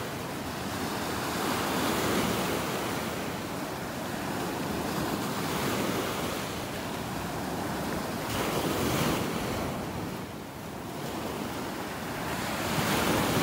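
Ocean waves wash onto a beach in North Naples, Florida, as the tide goes out. Constant surf rolls in steady swells, mixed with wind buffeting the microphone and no voices.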